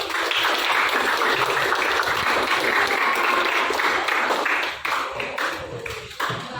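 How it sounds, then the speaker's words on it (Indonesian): Students in a seventh-grade classroom clap together in a steady, loud burst of applause that fills the room, thinning out and tapering off toward the end. "tepuk tangan."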